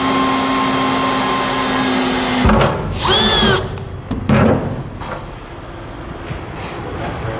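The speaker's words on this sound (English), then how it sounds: "What I'm going to do is I'm going to drill a small hole." A power drill bores a small hole in a metal trailer fender, a steady loud whine for the first couple of seconds, then short, broken bursts of drilling and handling noise.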